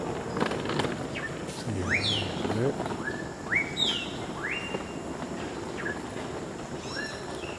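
Perched in a tree in Mérida, Campeche, a bird gives a string of bright, rising whistled calls, repeated every second or so at middle distance over a murmur of background noise and faint voices.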